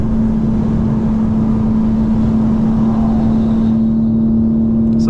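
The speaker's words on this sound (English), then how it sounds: "So that's valves open, that's why it's pretty loud." A stock 2024 BMW M4 with its exhaust valves open drones loudly and steadily while cruising at high gear, a strong low engine hum running throughout with no speech.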